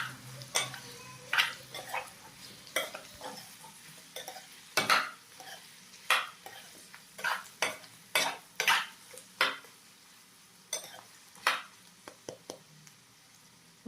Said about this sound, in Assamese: আদা নহৰুখিনি কেঁচা গোন্ধ যোৱালৈকে ভাজি থাকিম।